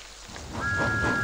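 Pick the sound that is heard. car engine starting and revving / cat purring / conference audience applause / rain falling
rain falling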